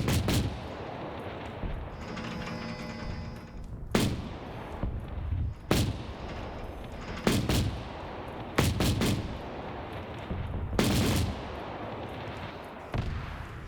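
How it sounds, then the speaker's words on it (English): Autocannon fire in the Arma 3 video game: loud heavy bursts and single booming shots at irregular intervals, some rapid doublets, over a constant rumbling battlefield background. "Autocannon right side."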